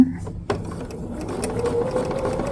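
Sewing machine stitching a fusible raw-edge appliqué quilt, a brief clunk followed by a quick, steady run of stitching chatter up close, with no talk.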